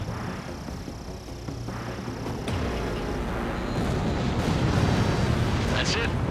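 A missile strike and explosion on an enemy bomber during an Ace Combat 7 air battle, a deep rumbling blast layered over a continuous roar of jet engines, with radio voices talking underneath.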